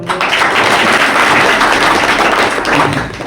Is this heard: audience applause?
yes